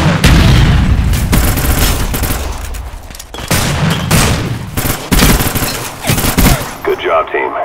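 Gunfire crackles in bursts through a round of Search and Destroy in a shooter game, with loud booming blasts mixed among rapid shots close by, while game voice callouts sound over the action.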